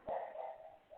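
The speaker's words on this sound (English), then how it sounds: "barking at something in the front yard" A dog barks once in a front yard, a single short, muffled bark with a brief howling tail, faint and distant indoors.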